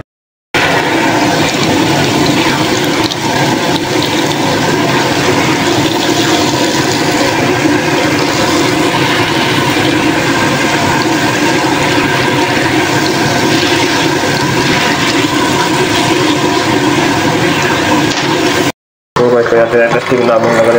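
A circulation pump pushes water through water heater pipes with all valves open, producing a loud continuous rushing, gurgling flow that runs steadily for nearly twenty seconds before cutting out briefly.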